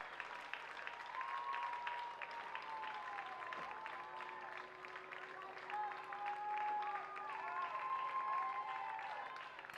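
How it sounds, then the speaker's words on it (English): Spectators at a schoolgirls' rowing regatta clap for a crew finishing after a capsize, a faint, distant spread of applause under steady tonal outdoor noise and some voices. "give them a big round of applause"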